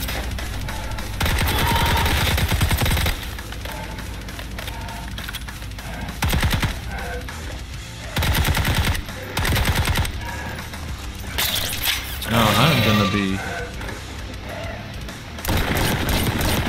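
Bursts of automatic gunfire in Call of Duty: Black Ops 6, loud and rapid, with several sustained volleys separated by short pauses, dense with crackling shots and occasional heavier booms.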